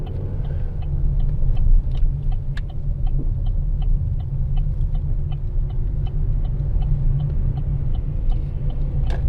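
A car drives and turns through Buenos Aires streets, its engine and road rumble loud and steady throughout, with faint ticking and distant street sounds over the continuous low drone.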